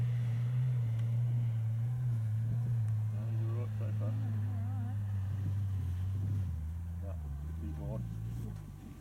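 Petrol engine of an old Toyota Land Cruiser 80 Series 4WD droning low and steady as it labours up the Big Red sand dune near Birdsville, pitch wavering as it bogs down, with wind noise and people talking over it.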